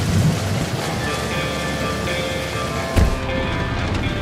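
Rain pours steadily during a night thunderstorm, with a low thunder rumble near the start and a sharp crack about three seconds in. A sustained tonal hum runs underneath.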